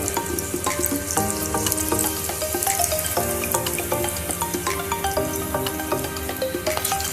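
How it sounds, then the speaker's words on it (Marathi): Onion bhaji fritters deep-frying in hot oil give a dense, steady crackling sizzle throughout, close and fairly loud, with no talking. "सगळी भजी आपण मग थोडी फ्राय झाल्याच्या नंतर काढून घेणार आहोत आणि सगळी एकदम नंतर सगळी फ्राय करून घेणार आहोत"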